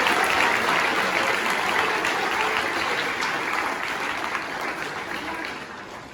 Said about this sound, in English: let's give a round of applause to Shane Dunlap.